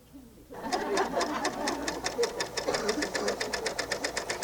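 Bernina L890 serger running with a double fold binder attachment, starting after a brief quiet moment into a steady, rapid mechanical stitching rhythm with regular pulsing beats, close and fairly loud, with no one talking over it.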